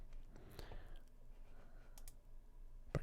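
A computer mouse clicking while selecting a template in Ignition SCADA software: a few faint, isolated clicks spread across a short, quiet stretch, with two close together and a sharper one at the end.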